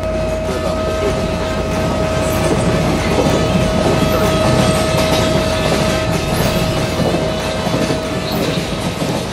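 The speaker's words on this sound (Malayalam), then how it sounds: "ട്രെയിൻ വിട്ടാ." A train rumbles along the tracks, loud and close, with steady clickety-clack from the wagons and a sustained horn tone running throughout, no voices over it.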